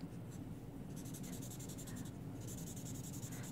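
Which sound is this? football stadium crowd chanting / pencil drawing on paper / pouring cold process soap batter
pencil drawing on paper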